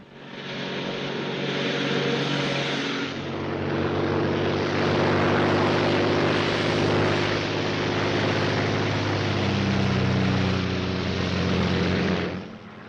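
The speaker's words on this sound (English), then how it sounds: "a Royal Air Force plane is waiting for us at a secret landing place." A Royal Air Force propeller plane from a 1942 film drones steadily and loudly for about twelve seconds, a continuous engine roar that swells slightly midway and cuts off near the end, with no talk.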